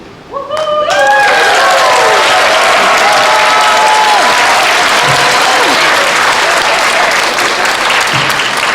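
After a brief tone, a large crowd at a school graduation ceremony bursts into loud, sustained applause that carries on steadily to the end.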